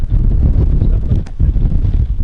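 Strong wind buffeting the microphone during river fishing in Kazachye, Ust-Yansky district, Yakutia, a continuous loud low roar with gusty fluctuations throughout.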